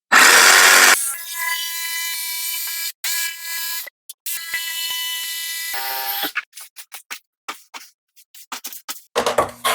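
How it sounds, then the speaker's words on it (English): A power saw cuts vinyl plank flooring for a DIY bathroom install, whining loudly in several sustained passes, then breaking into short, choppy bursts as the cut finishes. "Now I've got my mark where I need to cut that out. So let's go cut it out."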